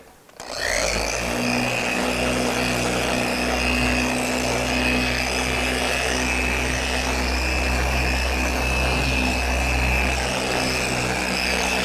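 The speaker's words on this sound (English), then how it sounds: "we're going to apply some wax using our waxing pad" Machine polisher with a black waxing pad spreading wax on a car's paint, starting up then holding a steady, loud whirring hum with a constant high whine, running alone throughout.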